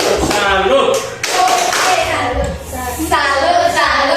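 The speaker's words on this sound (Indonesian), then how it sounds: "Kita memberikan tepuk tangan untuk tim tepuk salut." A group of people clapping the rhythmic 'tepuk salut' routine in a classroom setting, in short patterned bursts of claps, with voices calling and chanting along.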